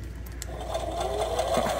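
A Halloween decoration modeled on a sewing machine gives off a mechanical whirring stitching sound that starts up and builds steadily over a short stretch, heard close and clear.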